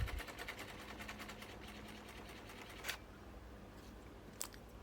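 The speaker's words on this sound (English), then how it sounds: "I'm using a printer to print something to test it." A printer feeds and prints on homemade recycled paper, a quiet whirring mechanism with rapid rhythmic ticking that fades out, then a couple of isolated clicks, fairly faint and with nobody talking.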